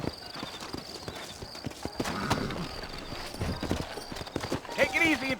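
Horse hooves clip-clop in an irregular trotting rhythm close by in the video game Red Dead Redemption, with people talking over them and a brief whinny near the end.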